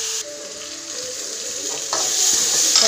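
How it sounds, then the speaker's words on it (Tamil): Shallots and curry leaves sizzle in hot oil while being sautéed for a fish curry, a loud, steady frying hiss with stirring scrapes that rises toward the end. "நல்லா வதங்கட்டும். கருவேப்பிலை கொஞ்சம் போட்டுக்கிடலாம்,"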